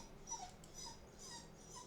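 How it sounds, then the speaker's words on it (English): A dog whines and whimpers from behind a shut door, a few thin high-pitched cries spread over a couple of seconds. It is faint and muffled against a steady low background hum. "As soon as you shut the door, he whines."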